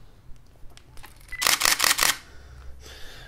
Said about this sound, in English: I'll just do it in the quiet continuous mode